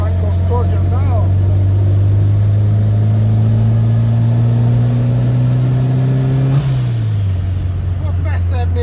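Chevette fitted with a turbocharged VW AP engine accelerating hard in a steady rising drone, a turbo whistle climbing above it before the revs drop at a gear change, loud and close.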